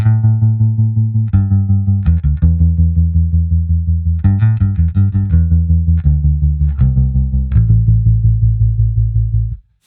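Guitar notes and chords play through an Anagram modulation effect driven by a sawtooth LFO, giving a steady ramping, repeating pulse over each sustained note; loud and close, no speech, ending abruptly.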